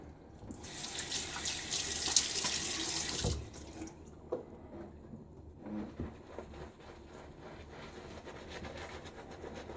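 A tap runs at a sink during shaving, giving a bright gushing burst for about three seconds. Quieter splashing and handling noises follow close by.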